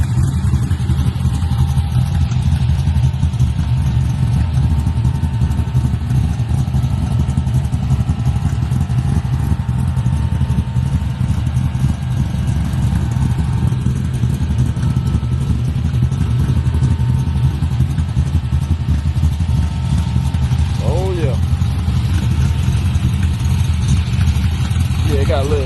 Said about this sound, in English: It got a little exhaust leak right there.